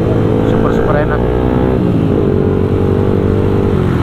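A 175cc MX King motorcycle engine drones steadily up close while riding, its pitch shifting around the midpoint as it changes speed, with someone talking over it.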